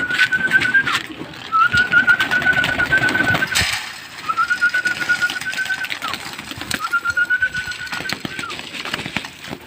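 Pigeons of the Kang breed coo and flutter close by as they are fed their evening meal. A person blows repeated long, steady whistle tones over their soft cooing and shuffling.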